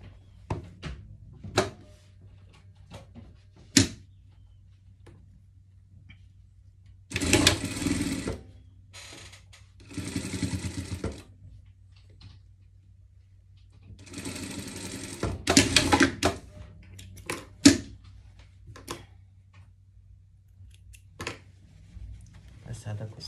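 A sewing machine stitches a seam on surgical clothing in two sustained bursts of running stitches, with scattered clicks, thuds and handling noises between them and a steady low hum throughout.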